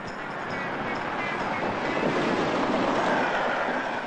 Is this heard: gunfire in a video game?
no